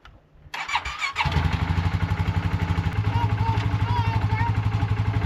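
A four-wheeler ATV at an old off-grid cabin cranks briefly, catches and settles into a loud, close, rapidly pulsing idle.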